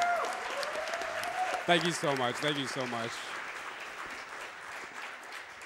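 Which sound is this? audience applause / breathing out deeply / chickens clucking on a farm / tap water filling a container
audience applause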